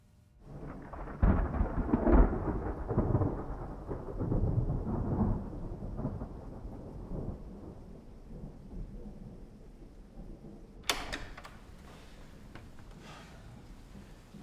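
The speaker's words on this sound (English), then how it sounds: "I just didn't really feel like walking in the rain. It's absolutely miserable out there." A thunderstorm outdoors: a long rolling rumble of thunder over steady rain, then a sharper crack later on, with rain hissing throughout.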